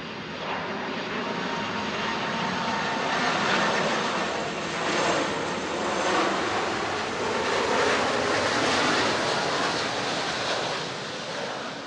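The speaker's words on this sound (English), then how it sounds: "there's a plane coming in there" A fixed-wing airplane comes in to land over a beach at Montego Bay, Jamaica, its steady engine roar blending with broadband surf and wind noise throughout, moderately loud and sustained.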